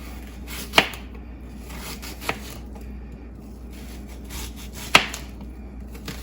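Knife strokes on a cutting board roughly chop red onion: two or three sharp, separate chops spaced a couple of seconds apart, close and clear over a quiet background hum.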